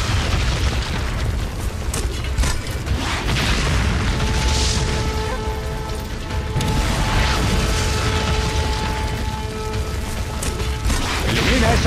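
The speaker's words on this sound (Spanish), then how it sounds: "Toro, dispara al tanque araña." Weapon fire aimed at a spider tank in the Turok video game: a dense, continuous barrage of mechanical clanking, ratcheting and booming blasts that stays loud throughout, with a steady tonal hum running underneath.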